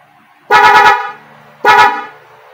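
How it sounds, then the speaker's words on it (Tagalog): A modified double horn on a Rusi Rapid 150 motorcycle sounds two loud, close honks, each about half a second long, separated by a short gap. "Yan po ang kanyang busina guys."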